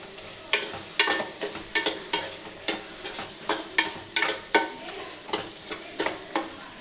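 Tomatoes with salt being stirred in a cooking pan, a utensil scraping and clinking against the metal in quick irregular strokes over a soft background sizzle, close and fairly loud, with no voices.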